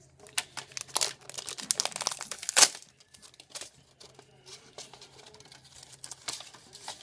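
Tape seal on a LootCrate subscription box being cut and torn open, with crinkly ripping and rustling bursts up close, a sharp tear near the middle, then quieter handling.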